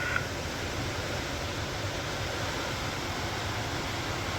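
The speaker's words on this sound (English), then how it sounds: "Oh, it's hammering down outside." Heavy rain pours down outdoors in a steady, dense hiss with no letup, loud and unbroken throughout, no voices over it.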